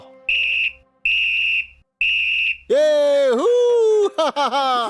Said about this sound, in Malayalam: 3 പ്രാവശ്യം വിസിൽ അടിച്ചു കഴിഞ്ഞാൽ റെസ്ലിംഗ് തുടങ്ങുന്നതായിരിക്കും.